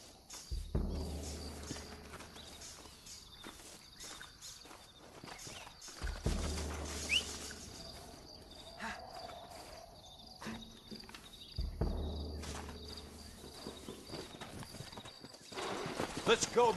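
Horse hooves clip-clopping in Red Dead Redemption, steady walking beats with occasional whinnies, punctuated by deep thuds and game effects, while voices talk over parts of it.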